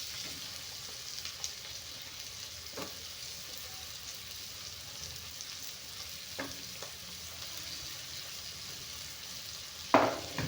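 Big onions frying in oil in a pan alongside chillies and masala: a constant low sizzle with a few sharp stirs, the last one louder near the end, and no voices.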